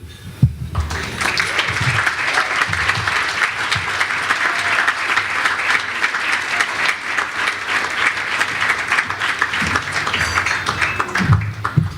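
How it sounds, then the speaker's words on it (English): An audience at a Mercy College honors ceremony claps steadily for honorees, a dense, sustained round of applause that rises quickly and carries on for about ten seconds before tapering off. "How about another round of applause for both of our honorees tonight"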